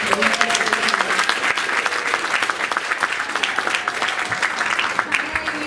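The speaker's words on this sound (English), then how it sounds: "Another round of applause there for Janice Grant." Full, steady applause from a crowd at an oratorical contest, dense overlapping claps holding a constant loud level, with a faint voice or murmur mixed underneath.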